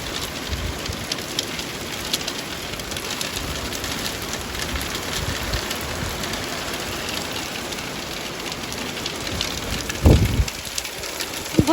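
Hail and rain fall on a garden plot with tomato plants, a dense steady hiss of drops pattering on leaves and surfaces throughout, with a few louder close knocks near the end.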